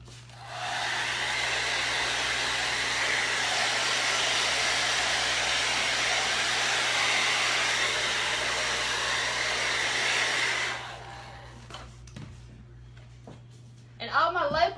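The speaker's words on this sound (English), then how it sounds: "with my pretty blow dryer." Hair dryer blowing steadily on freshly painted Christmas ornaments, a loud, continuous whoosh for about ten seconds that then cuts off, followed by quiet handling sounds.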